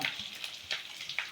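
Peanuts crackling as they fry in hot oil while a tempering for lemon rice is prepared, a short burst of soft sizzling with a few sharper pops.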